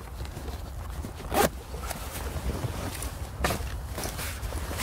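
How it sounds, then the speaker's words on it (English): A zipper on a Bergen backpack pouch is pulled, giving two short rasping zips about two seconds apart over a steady low rumble of background noise. "On the other side I have the zip on the Bergen and zip up."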